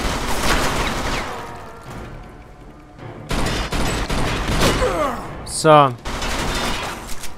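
Pistol shots in the video game Mafia 2 crack out several times over loud game ambience and background mechanical noise, with a short spoken word and a rising whine-like effect near the end.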